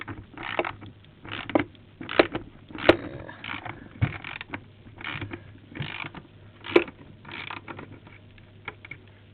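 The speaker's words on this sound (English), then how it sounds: "you loosen the bolt up" A skateboard wheel's axle nut is loosened with a tool, giving a run of close ratcheting clicks, metallic taps and scrapes in irregular bursts.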